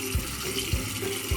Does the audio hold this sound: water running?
yes